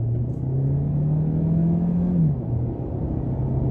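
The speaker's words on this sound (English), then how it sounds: "we'll have a good rolling start on the gas" A 2023 Hyundai Elantra Limited Hybrid accelerating onto a highway gives a loud, steady engine hum and road rumble from inside the cabin, its pitch rising smoothly, then dropping briefly as the engine settles and holds again.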